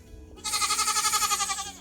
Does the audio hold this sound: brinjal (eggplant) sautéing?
no